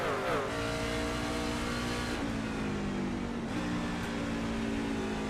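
Racing truck engines in an iRacing Truck Series race at New Hampshire Motor Speedway, loud and close, with revs dropping in several stepped downshifts as they brake into a corner, engine whine falling in pitch with no talk.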